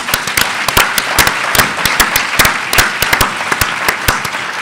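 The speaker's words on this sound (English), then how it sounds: "if you could give a round of applause" Audience applause at a 2016 early childhood development series launch event, dense steady clapping from a crowd that fills the whole stretch, loud and close with no talking over it.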